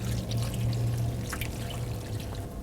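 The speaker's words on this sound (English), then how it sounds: "We're going to add 2 cups of Guinness beer" Guinness beer pouring into a Dutch oven over bacon, carrots and celery for beef stew, a steady soft liquid splash and trickle, close and quiet.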